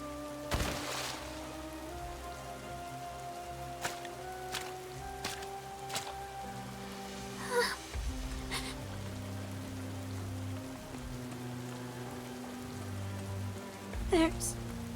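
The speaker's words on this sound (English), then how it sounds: "What the? It's raining." Steady rain patters on surfaces in the video game NIKKE as a soft, even hiss beneath game music, with a few scattered louder drops and effects.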